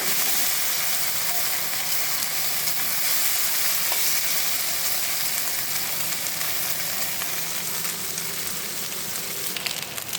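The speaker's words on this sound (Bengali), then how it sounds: "এবার আমি উল্টো পিঠটা করে দিলাম, সুন্দর করে একটু নাড়িয়ে দিই।" Maya fish sizzles in a pan after being flipped and is stirred, producing a dense, continuous frying hiss heard close up and without speech for about ten seconds.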